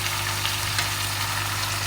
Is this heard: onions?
yes